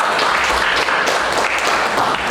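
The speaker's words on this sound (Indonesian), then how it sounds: "Tepuk tangan buat kedua" Audience at a PPG teacher-training session at UIN Sunan Gunung Djati applauding, a loud, continuous patter of many hands with a few sharper claps poking through.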